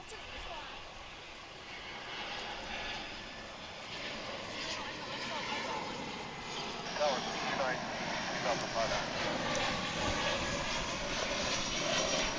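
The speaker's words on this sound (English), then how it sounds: "since we like tri-jets, let's zero in on this one that just came in from Louisville as it approaches the UPS cargo hub." A UPS tri-jet cargo plane arriving from Louisville approaches the DFW airport cargo hub, its steady broadband jet roar building slightly as it nears, heard from a distance with faint talk underneath.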